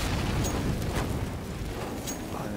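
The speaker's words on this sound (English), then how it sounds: "It's lucky for him that it was a Molotov as opposed to a grenade" A Molotov cocktail bursts into flames in Counter-Strike on de_dust2, a loud whooshing roar of fire that starts abruptly and stays dense and steady throughout, with no talk.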